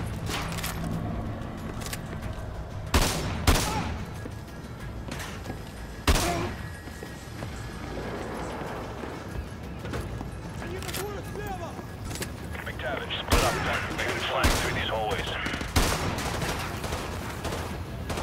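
AA-12 shotgun firing in Modern Warfare 2 Remastered: loud, sharp blasts come in scattered bursts over continuous game noise, and a voice talks throughout.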